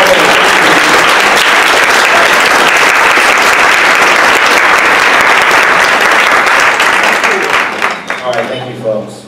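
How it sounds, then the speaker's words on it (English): Loud, dense applause fills an awards celebration room, a continuous roar of many clapping hands that fades out over the last second or so. "I think it's time we can give them one more round of applause"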